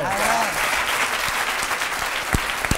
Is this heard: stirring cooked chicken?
no